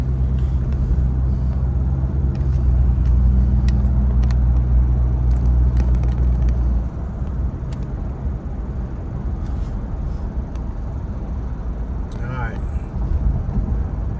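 A car driving along a road trip route toward a mountain, a steady, loud low road rumble from inside the cabin that eases partway through, with scattered small knocks and clicks and people talking inside.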